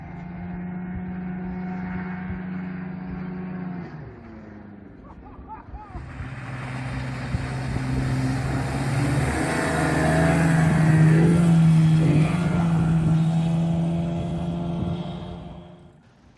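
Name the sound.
Johnson 25HP outboard motor running on small aluminum boat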